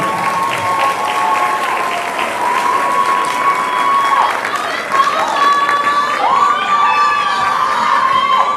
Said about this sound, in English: Let's give them a round of applause as they come on to stage.